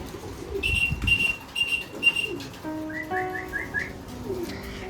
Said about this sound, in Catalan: Ara estan entrant els coloms.